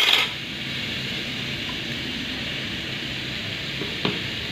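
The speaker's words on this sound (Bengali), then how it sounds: "পরোটা ভেজে নেব।" Paratha frying in a pan in a home kitchen, a steady even sizzle that holds throughout, with one faint clink near the end.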